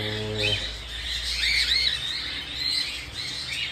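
A rare-mutation red-eyed cockatiel chirps in a continuous high, bright twittering, close and steady for several seconds, with a brief low tonal hum at the start.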